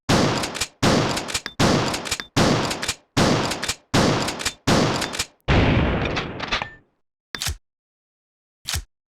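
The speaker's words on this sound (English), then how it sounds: "let's test out the shotgun in game, even though we can't see it" A pump-action SPAS 12 shotgun in Resident Evil Survivor fires seven loud, evenly spaced blasts, then a longer decaying blast followed by two short, sharp bursts after pauses.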